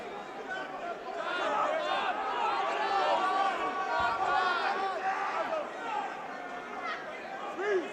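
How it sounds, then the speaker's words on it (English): A boxing crowd at a bout between Dan Rees and Rocky Khan chants and shouts steadily, a dense roar of many voices filling the space throughout. "it's difficult to tell if they're shouting Rocky or Dan Rees, but either way, the crowd getting into this"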